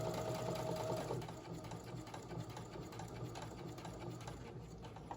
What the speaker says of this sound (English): I'm going to sew 1/4 inch up the side.